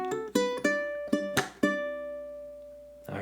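Ukulele phrase in a Motown style, several quick strummed chords with a percussive slap connecting beat one into beat two, then a ringing chord that decays, with a final strum at the end; close and clear, no voices.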